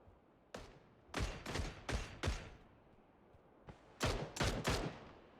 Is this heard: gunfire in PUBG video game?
yes